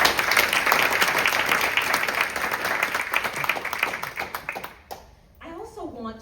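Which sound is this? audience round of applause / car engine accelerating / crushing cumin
audience round of applause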